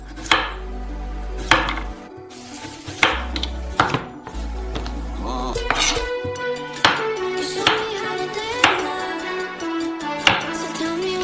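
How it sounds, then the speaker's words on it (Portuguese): A knife chops through a carrot on a cutting board for a lasagne, sharp clear thuds landing in a steady series, close and loud with no talk. "Cortamos uma cenoura ao meio e as fatiamos."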